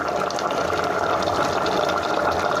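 Steady rushing and splashing of cooking water being poured off from a pot of chicken for biryani, continuous and fairly loud, with no voices.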